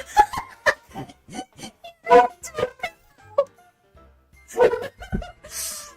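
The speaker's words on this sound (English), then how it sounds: "Popper's barking" A dog barks several times in short, sharp bursts, with a laugh and brief vocal sounds mixed between the barks in an indoor setting.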